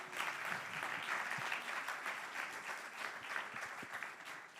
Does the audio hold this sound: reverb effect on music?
no